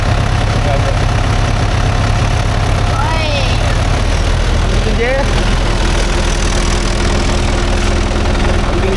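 A Mahindra Yuvo Tech Plus 585 4WD tractor engine runs steadily with a heavy, continuous low rumble while pulling a 9-tine cultivator near coconut trees; it stays loud throughout, with occasional voices faintly over it.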